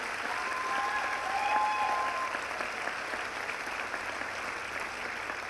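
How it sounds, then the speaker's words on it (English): Steady applause from the audience at a 2024 doctoral ceremony, a sustained wash of clapping that swells slightly early on and then holds evenly for several seconds. "let's give ourselves a round of applause."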